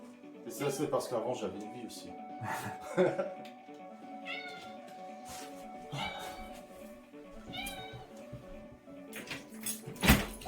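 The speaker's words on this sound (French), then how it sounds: "c'est le chat là, qui demande d'aller aux toilettes" A domestic cat meows several times in a room, its cries rising over someone speaking in French and over faint background music and sounds from a Super Nintendo Street Fighter 2 Turbo game.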